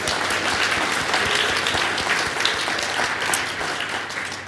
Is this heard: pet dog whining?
no